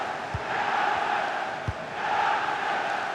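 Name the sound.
stadium crowd cheering in FC 26 football video game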